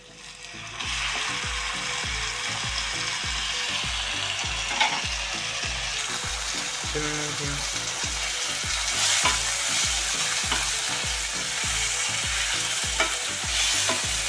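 Half a kilo of mutton fries in a pan for mutton dosakaya curry, a loud close sizzle broken by a steady run of rhythmic scraping stir strokes across the whole stretch.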